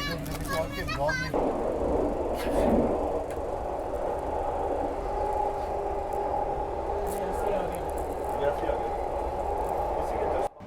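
A train runs along the railway toward Shri Mata Vaishno Devi, passing Reasi station, making a steady, continuous rumble and rattle of rolling wheels. Brief speech is heard at the very start.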